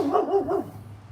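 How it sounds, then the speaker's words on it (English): A dog barks at an Amazon delivery driver: three quick, close barks in a row that fade into quiet room tone. "Now he's doing his second favorite thing, and that's barking at any delivery drivers."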